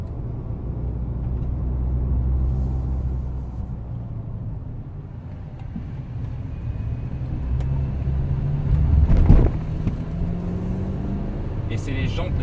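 A Range Rover Velar D240 on 20-inch wheels drives along the road, its low engine and tyre rumble steady inside the cabin and swelling briefly near the end, while someone talks over it.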